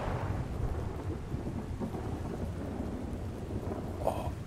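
Rain falls heavily in ARK Survival Ascended with a low, rolling rumble of thunder underneath, a continuous dense wash of sound and a slightly sharper crackle near the end.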